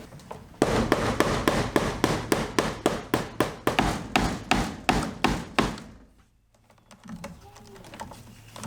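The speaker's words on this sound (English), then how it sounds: "I'll staple it here on the stud" Rapid run of sharp staple-gun shots, about twenty evenly spaced impacts, fastening electrical wire to a wooden wall stud during a mobile home pantry and closet build, followed by a quiet pause and faint handling noise.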